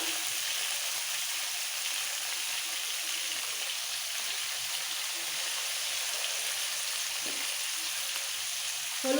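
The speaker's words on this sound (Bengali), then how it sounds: "আর কুমড়ো তেলের মধ্যে হালকা একটু নাড়াচাড়া করে দিয়ে দেবো" Pumpkin pieces fry in oil with a touch of salt and turmeric, a dense, even hiss and crackle held steady throughout, with an occasional soft stir near the end.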